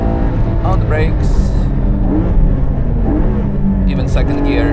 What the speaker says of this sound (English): Let's do a downshift here, on the brakes